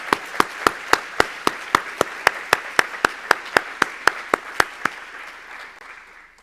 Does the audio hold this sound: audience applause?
yes